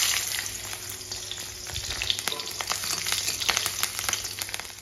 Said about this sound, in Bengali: এখন আমি পটল আর আলুগুলো ভেজে নেব লবণ আর হলুদ দিয়ে।